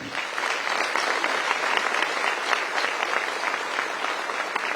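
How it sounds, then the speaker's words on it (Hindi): Loud, sustained applause from a large audience at a public address on cooperative societies in Maharashtra, a dense steady clatter of many hands throughout with no talk. "जोर से ताली बजाना"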